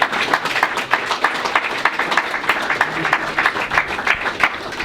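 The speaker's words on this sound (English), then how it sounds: "I think we should all give him a big round of applause" Audience applause fills a Gillingham Football Club player of the year awards night for the 2020/2021 season: steady, dense clapping from many hands, close and lively, with a faint voice underneath.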